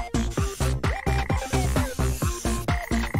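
A frog croaks in a fast, regular series of about a dozen loud, close calls, each a short descending pulse, with no talk over them.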